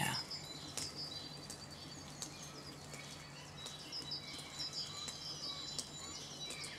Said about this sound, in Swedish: Fåglarna bara. Hur mycket fåglar som helst nu.